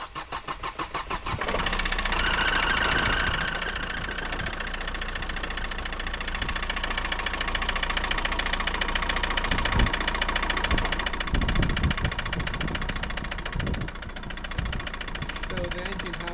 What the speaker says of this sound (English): So the engine has a pretty loud knock.